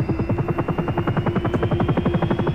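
Sikorsky S-76 helicopter engine and rotor in X-Plane 11 spinning up, a steady rapid rhythmic thumping of blades over a low droning whine, close and continuous throughout.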